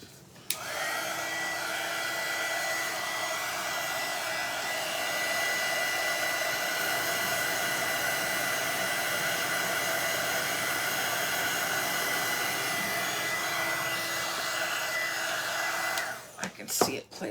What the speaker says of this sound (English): what I'm going to do right now is hit this with the heat tool a little bit